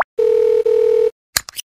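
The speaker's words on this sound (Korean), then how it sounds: "발걸음을 돌리며 답답한 마음에 남편에게 전화를 걸어봅니다." A loud, steady telephone dial tone sounds for about a second as a call is placed, with a tiny break partway through, then stops and is followed by a few short clicks.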